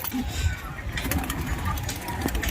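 Pigeons kept for sale on a rooftop at a Diamond Harbour pigeon market give soft, low cooing and occasional wing rustles, steady and close, with muffled talk and background noise mixed in.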